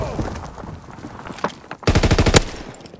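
Gunfire in a Call of Duty: WWII multiplayer match, with scattered shots followed by a loud, close burst of rapid machine-gun fire near the end.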